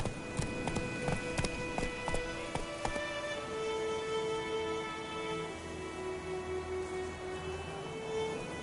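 The horse Roach gallops in a video game, with rapid rhythmic hoofbeats close and clear for the first few seconds before fading under sustained tonal music.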